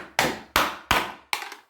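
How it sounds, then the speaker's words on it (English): Hammering an old metal can flat with the end of a Cold Steel Recon 1 knife, four sharp evenly spaced metallic strikes, close and loud, each with a short ringing decay. "hammer this flat with the end of the knife with no problems"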